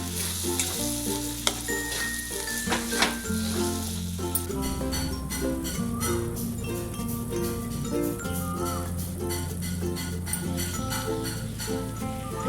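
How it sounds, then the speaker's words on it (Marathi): Paneer gravy sizzling in a pan while being stirred, a dense, close crackle with repeated scraping strokes, over soft background music. "हलवून घेऊया।"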